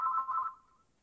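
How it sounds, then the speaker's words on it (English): A phone rings briefly in a quiet room, a soft electronic tone that holds for about half a second and then fades away. "I turned the phone off, but there's another one ringing."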